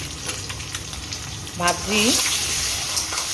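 Bhetki fish and eggs fry in a pan with a steady, close sizzle and light crackle, while a voice briefly speaks or hums over the cooking noise.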